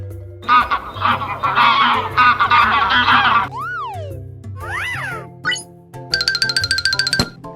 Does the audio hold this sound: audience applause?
no